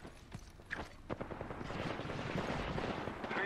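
Gunfire in the video game Apex Legends, a rapid burst of close, loud shots that swells into a continuous rattling barrage.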